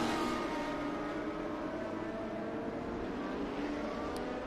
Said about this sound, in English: This is quite a battle here with these Radicals.